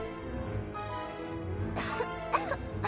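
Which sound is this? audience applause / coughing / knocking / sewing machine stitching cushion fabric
coughing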